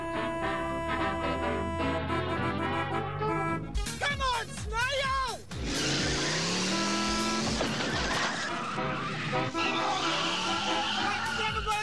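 A pizza delivery car overtakes another car in a chase, with revving engines, squealing tyres and a car sweeping past, under loud excited shouting and a musical score.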